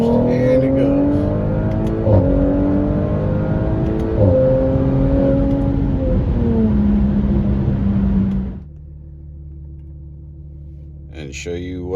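An Audi B9 RS5 in manual mode with rolling anti-lag boost pulls hard in third gear from above 4,000 rpm. The loud engine note climbs steadily for about eight seconds, then drops abruptly to a quiet low hum.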